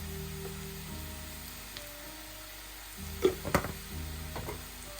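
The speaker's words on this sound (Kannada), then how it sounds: "ಫ್ರೈ ಆಗಲಿ ಸ್ವಲ್ಪ. ಈಗ ಇದು ನೋಡಿ ಸ್ವಲ್ಪ ಬ್ರೌನ್ ಆಗ್ತಾ ಬಂದಿದೆ." Mutton sukka frying in a pan, a quiet steady sizzle throughout, with a few louder clattering stirs toward the end, close and alone.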